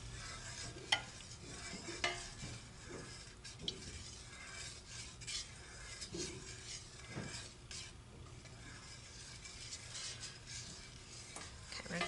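A utensil stirs scented melted candle wax in a pot on a burner, giving soft scraping and occasional light clinks against the sides over a low steady background hiss.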